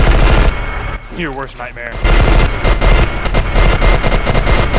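Rapid bursts of shotgun gunfire in the cooperative shooter E.Y.E. Divine Cybermancy, loud and close, with a brief lull where a voice speaks before the shooting resumes.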